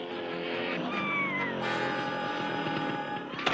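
A cat in an episode of the Batman TV series gives one drawn-out, close meow with rising and falling pitch, followed by a second cry, alone without talking.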